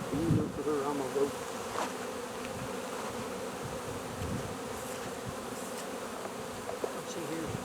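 Honey bees buzz steadily around a hive during a swarm, making a dense, continuous hum that stays even and moderately loud throughout, with no talk.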